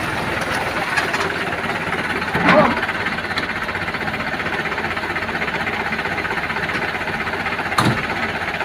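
A tractor engine runs steadily while set up to tow a stuck palm-oil truck, a rough, continuous chugging drone with occasional knocks and clanks and voices in the background.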